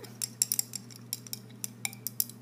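A metal utensil stirs baking soda in water in a glass, giving a run of light, quick clinks and taps at an uneven rhythm over a low steady hum, close and fairly quiet.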